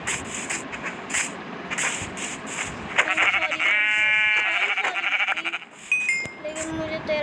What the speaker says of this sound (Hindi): एक और थी बकरी गाइस, तो एक और बकरी थी, वो शायद डर के भाग गई